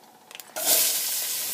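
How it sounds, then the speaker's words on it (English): Onions, green peppers and garlic hit a hot pan after a few light clicks, breaking into a loud, steady close-up sizzle that continues without pause. "We're going to give the onions and the green peppers and the garlic"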